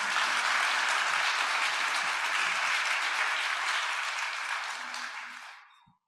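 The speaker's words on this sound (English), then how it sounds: "You can clap." Sustained audience applause at a virtual fireside chat during a marketing conference, a dense steady wash of clapping that holds loud for about five seconds and then fades out.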